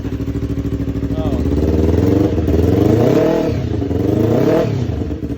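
Yamaha R3 engine on a shifter kart revving loudly and continuously, pitch rising and falling through several sweeps with a rattling, vacuum-like intake and exhaust tone, people talking over it.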